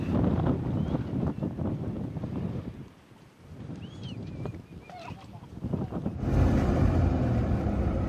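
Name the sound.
wind blowing in Azerbaijan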